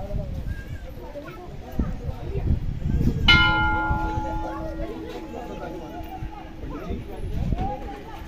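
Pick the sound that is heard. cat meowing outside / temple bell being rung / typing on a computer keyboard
temple bell being rung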